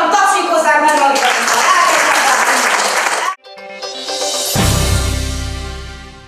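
Loud, dense audience applause at an outdoor operetta gala at the Szentendre Theatre, sustained for about three seconds before breaking off, then followed by swelling music with voices over it.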